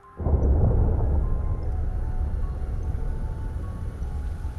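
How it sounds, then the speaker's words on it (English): Theatre sound-effect thunderstorm: a sudden heavy rumble of thunder breaks in, then rolls on in a low, loud, steady wash of storm noise with rain underneath. "A storm has hastily arisen. 'Tis a dreary night. The rain patters dismally against the panes."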